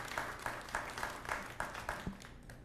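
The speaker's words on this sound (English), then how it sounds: "So applause to you." Scattered clapping from an audience at a city council meeting, a modest, fairly rhythmic run of claps that keeps up for a few seconds in a room.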